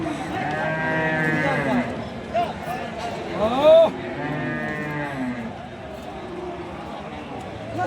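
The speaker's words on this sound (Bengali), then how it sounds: "এই যে পাশেও অসংখ্য গরু উঠছে" Cattle, bullocks for sale ahead of Qurbani, moo several times at a busy livestock market in Bangladesh, long drawn-out calls close by, with people talking in the background.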